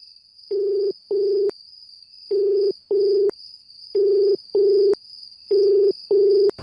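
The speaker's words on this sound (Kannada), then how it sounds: "ರಿಂಗ್ ಆಗ್ತಿದೆ, ಪಿಕ್ ಮಾಡ್ತಿಲ್ಲ." Ringback tone of an unanswered phone call in a Kannada TV serial scene: four evenly spaced double-ring bursts, clear and steady, with no voices.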